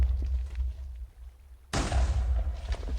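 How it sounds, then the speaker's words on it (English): A TNT explosion in Minecraft bursts suddenly partway through, a loud broadband blast that follows quieter low rumbling and then sustains a crackling roar to the end. "you should be hearing TNT explosions"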